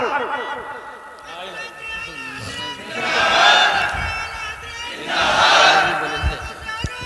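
A crowd at a religious speech chants slogans in loud rhythmic surges, two big swells of massed voices rising after someone speaks, with quieter voices and talk in between.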